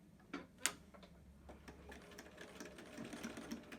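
Sewing machine fitted with a zipper foot stitching along a fabric edge for a zipper pouch, a quiet, steady run of rapid mechanical ticking after a brief clatter at the start.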